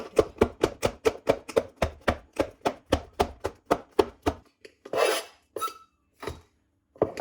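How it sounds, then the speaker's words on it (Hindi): A knife chops green and red chillies in a fast, even rhythm of about eighteen crisp, close strokes, then a few slower scattered cuts and a brief scraping sound. "अब रेड चिली भी काट लेंगे।"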